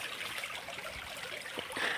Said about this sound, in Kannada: ಹೀಗೆ ನೀರು ಹರಿತದೆ ತೋಟದಲ್ಲಿ ನೋಡಿ